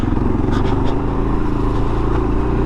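A 2022 Kawasaki KLR650 motorcycle engine rumbles loudly and steadily while the bike rides over rocky terrain on stock suspension and tires, with faint knocks and rattles from the bumps.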